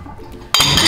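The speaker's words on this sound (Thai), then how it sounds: "ทำไมล้างจานแรงจัง" Cups and dishes being washed during Chinese New Year chores, with a quiet stretch followed by a sudden loud burst of clinking crockery, splashing water and rattling pans close by.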